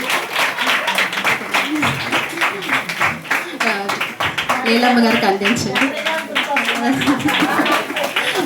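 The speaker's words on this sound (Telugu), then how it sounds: "అందరూ చప్పట్లు కొట్టండి." A congregation at a New Year church service in Bhimavaram claps hands in a fast, steady rhythm, loud and close, while someone speaks over the clapping.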